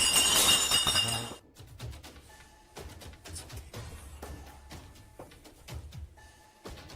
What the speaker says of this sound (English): Terrifying clinking and clanking bursts through the darkness.